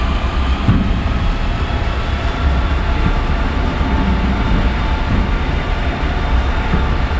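Continuous loud rumble and rolling of a train in a railway simulator game, an Indian Railways Nagercoil Express run on broad gauge, steady throughout with low clattering and no talk.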